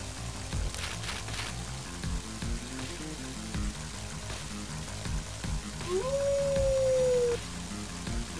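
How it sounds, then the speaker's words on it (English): A dog howls once in the Mother 3 video game, a single rising then sustained howl lasting about a second and a half, set over looping game music with a soft rain-like patter underneath. "Oh, he's such a cute dog."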